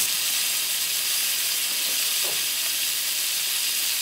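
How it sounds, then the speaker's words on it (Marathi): Bombay duck fish fry in a pan, Maharashtrian coastal style, as a little oil is added, a steady loud sizzling hiss that carries through without pause. "थोडंसं भरून आता तेल सोडते, कारण दुसरी बाजू पण शेकायला पाहिजे मच्छीची ना"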